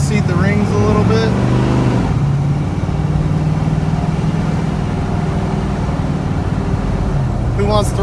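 A freshly swapped LS V8 in a Jeep Cherokee Chief runs with a loud, rough, lumpy idle, revving up briefly at the start and end, while people talk over it.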